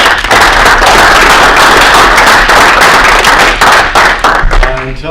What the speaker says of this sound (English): let's give one more round of applause for Brady